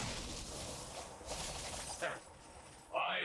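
A bright, crunchy shattering effect from the digital card game MTG Arena bursts out amid dense game noise. A voice talks over it, and a sharper crash lands near the end.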